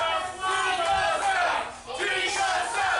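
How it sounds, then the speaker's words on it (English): Wrestling crowd at a live match chanting and shouting in unison, loud and sustained with rising swells of massed voices throughout. "the crowd getting into Chico's head early in this match"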